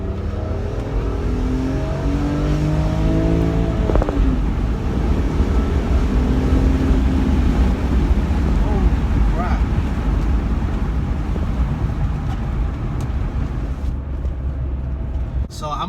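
A car's engine pulls hard and loud after dropping a gear, its rising tone partly buried under heavy wind roar and rumble from open windows, with a brief voice early on.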